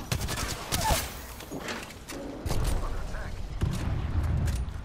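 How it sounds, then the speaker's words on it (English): Gunfire and grenade explosions in an Apex Legends firefight, a dense fusillade of close shots and bursts with heavy low thumps, continuous and loud, with a voice shouting over the chaos. "I'm gonna go down from fucking grenades!"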